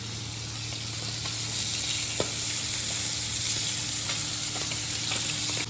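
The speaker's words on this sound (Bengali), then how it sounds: "মাছ ভাজা সবসময় হাই হিট।" Small puti fish fry in oil over high heat, making a loud, steady close sizzle with an occasional sharp pop, continuing without speech.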